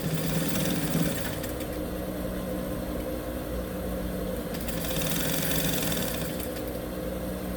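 A sewing machine runs steadily for several seconds while stitching a reverse backstitch along the edge of a tulle cake cover, a continuous close mechanical whirr with slight shifts in pitch and no talk.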